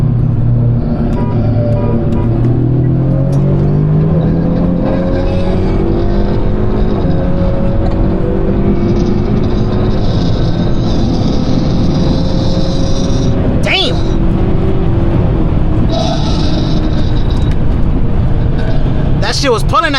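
A Honda Civic Si and a turbocharged Honda Accord accelerating hard side by side in a street race, heard as a loud, continuous engine roar with rising and falling pitch through gear changes, close to the microphone, with voices talking over it.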